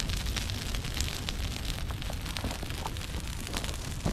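Fire crackles and hisses steadily as a felled tree burns on an open hillside being cleared for fire protection, with scattered pops over a dense, continuous roar and no voices.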